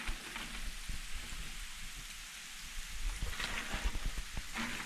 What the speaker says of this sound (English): It's just freezing rain and sleet right now.